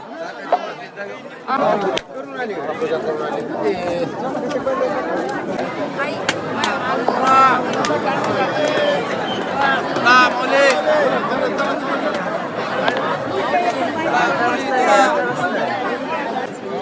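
A dense crowd of pilgrims at Alandi fills the air with loud, constant babble from many overlapping voices close by, sustained throughout with no quiet gaps.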